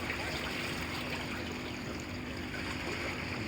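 High tide water splashes and washes against the shore, a continuous low, steady rush of surf and trickling water, fairly faint and without clear individual waves.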